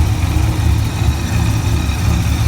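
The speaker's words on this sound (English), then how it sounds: "Supercharger is pretty quiet." 2006 Corvette C6 V8 with a freshly installed A&A supercharger and cam, idling in a steady, loud low rumble close by, with no one talking.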